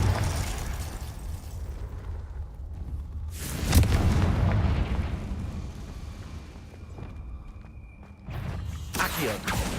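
A Confringo fire spell exploding in Hogwarts Legacy, a deep booming blast that swells around four seconds, with lower rumbling and game ambience before and a smaller burst near the end.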